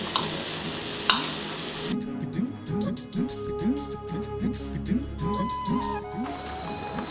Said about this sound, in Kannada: ಈ ಥರ ಒಲೆ ಮೇಲೆ ತೊಳಸ್ಕೊತಾ ಇದ್ದೀನಿ.